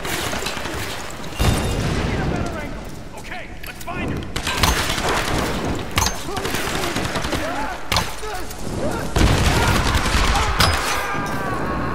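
Rapid gunfire erupts in a Tomb Raider firefight on PC, with dense overlapping bursts and heavy booms. The shooting stays loud and close throughout, with someone talking over the battle.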